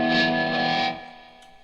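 An electric guitar played through a Wilkinson ceramic PAF-style humbucker gives a bright, ringing chord with effects colouring the tone, sustaining briefly before fading out.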